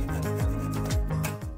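A chisel paring off the waste to trim mitred dovetails in wood: a close, continuous squeaky rubbing scrape with shifting pitch, lasting only a moment.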